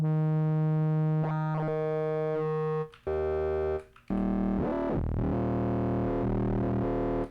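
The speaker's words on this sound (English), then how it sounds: "Phase distortion, that's kind of cool." A buzzy, harmonically rich phase distortion synth tone holds steady, then shifts pitch with sweeping, warbling bends and a brief cutout before a louder, brighter sustained note.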